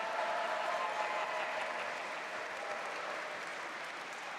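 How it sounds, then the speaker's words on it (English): Steady, dense applause from an outdoor awards-ceremony audience goes on without a break and stays fairly loud throughout. No voices rise above it. "We can have some applause there, folks."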